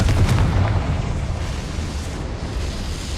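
A Confringo fire spell exploding in the Hogwarts Legacy video game, a loud booming blast at the start that rolls off into a rumbling decay.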